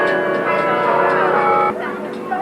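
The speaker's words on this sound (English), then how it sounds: "This is the bell tower with 53 bells." Dense, sustained ringing of 53 bells in a bell tower blending into a rich, loud wash of overlapping tones, with a slight shift partway through.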